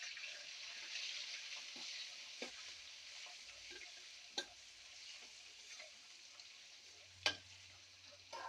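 Ingredients frying in oil in a pan for Telugu lemon rice (chitrannam), cumin among them: a soft, steady sizzle with a few faint stirring clicks and taps, quiet and without voices.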